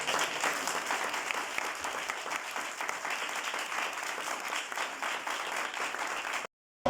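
An audience in a church service claps loudly and steadily for several seconds, a dense, even applause that cuts off abruptly near the end.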